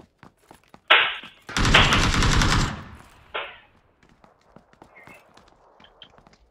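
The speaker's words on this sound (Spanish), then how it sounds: "Voy a disparar rápido, gente." Fast gunfire in The Division 2: a short rapid burst, then a longer loud sustained volley and a brief final burst, close and sharp, followed by quieter scattered clicks and game sounds.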